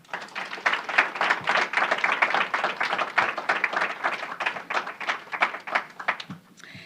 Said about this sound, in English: Please join me in applauding our clinical staff.